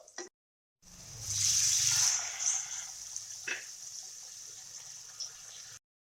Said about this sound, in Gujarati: હવે પાણી નાખી દઈશું.